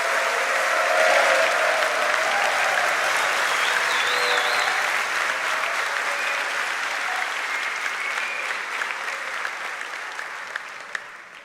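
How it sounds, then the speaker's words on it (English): Sustained applause from a large audience at the 2026 Palmetto Boys State graduation, with dense clapping and scattered cheers filling the hall, steady and loud before slowly thinning out. "give a huge Boys State round of applause for your 2026 Palmetto Boys State Governor, Lucas Hogan"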